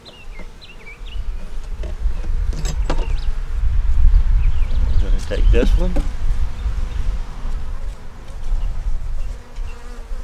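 Honey bees buzz steadily and close at an open top bar hive, a dense droning swarm that holds through the whole stretch while someone speaks over it and frames knock and slide.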